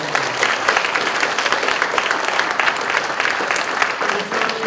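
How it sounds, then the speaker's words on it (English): A school-age audience at the 2019 Spelling Bee of Canada Championships applauds a student in the intermediate category: dense, steady clapping from a full hall that fills the whole stretch at an even, loud level with no talk over it. "Let's give him all a big round of applause for his"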